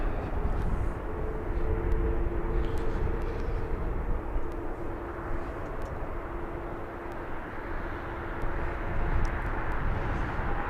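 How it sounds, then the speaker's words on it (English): An Aer Lingus Airbus A321 long range arrives at London Heathrow's runway 27 right, a steady broad jet engine roar with a faint whining tone, heard outdoors at moderate distance with wind noise and no talk. "Aer Lingus flight 154 from Dublin. That one an A321 long range."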